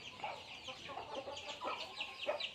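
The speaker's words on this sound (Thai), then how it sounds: "ไก่ตัวนี้มันไก่ผม" Chickens on a Thai farm cluck in a string of short calls at moderate distance, with faint rustling between them and no talk.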